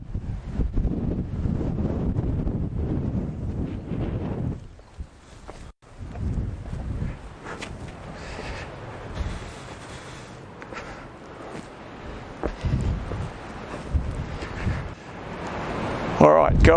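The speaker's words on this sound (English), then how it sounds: "It is blowing an absolute gale up here." Strong gale wind buffets the microphone at Reed's Lookout, a mountain lookout in the Grampians, roaring loudly in surging gusts with brief lulls, close and continuous throughout.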